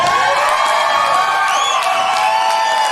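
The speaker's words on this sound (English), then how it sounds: "Please keep this raucous applause going" Comedy club audience at a live stand-up show cheers, whoops and applauds in a loud, sustained roar of many voices.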